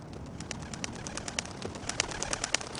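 Homing pigeons give faint, soft fluttering and quiet cooing, a steady run of small, light pulses against a low background hum.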